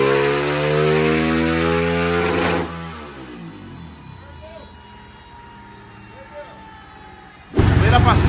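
A 230cc Start motorcycle engine runs with a strong, steady droning hum. It then drops to a quieter idle with faint rattles, before bursting back loudly at the end.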